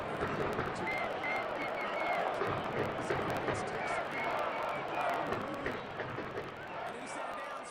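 Home crowd noise in a Madden football video game, a continuous roaring, cheering stadium crowd with swelling shouts, steady at moderate loudness under a commentator's talk.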